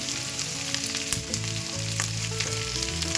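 Onions and green chillies fry in a pan with browned ginger and garlic for a chicken kali mirch: a steady loud sizzle with occasional stirring scrapes, close and continuous, with no talking.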